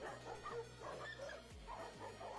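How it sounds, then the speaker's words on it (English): A large German Shepherd barks and yips repeatedly in agitated, excited bursts, fairly close but not loud, with a steady low hum underneath. "Watch this giant German Shepherd just freak out."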